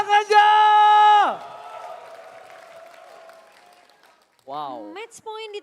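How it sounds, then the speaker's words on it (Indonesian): Crowd applause and cheering fill an esports arena during a Mobile Legends match, a loud announcer's drawn-out shout in front of a diffuse audience roar that fades, then more voices cut in. "FPL Arena, mana tepuk tangannya?"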